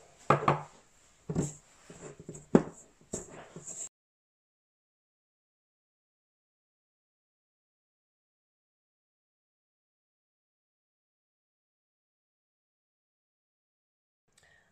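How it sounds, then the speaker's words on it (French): Almond flour, icing sugar and egg white being mixed into macaron paste in a bowl: a few short scraping and knocking strokes over about four seconds, then silence. "on va mélanger de manière à obtenir une pâte"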